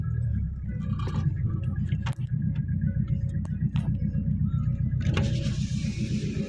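A vehicle engine runs with a low, pulsing rumble close by, sputtering irregularly with a sharp dip partway through as it struggles, while people talk in the background.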